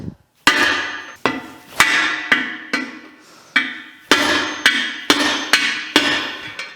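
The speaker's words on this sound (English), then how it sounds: "I'll stand inside the frame down here too and just give her a few whacks." Hammer whacks driving a bearing race out of the steel frame of a Yamaha YZ500 two-stroke motorcycle, about twelve sharp metallic blows in a steady rhythm, close and loud, each ringing briefly, with no talking.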